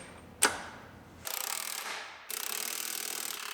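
Ratchet wrench tightening the rear suspension arms on a 2013 Buick Enclave AWD: a sharp metallic clack, then two rapid clicking ratchet runs, each about a second long, close and alone.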